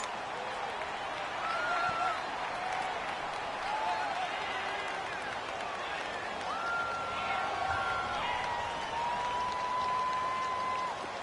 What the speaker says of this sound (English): Home field advantage is really kicking in, making it very difficult for them to hear the snap count.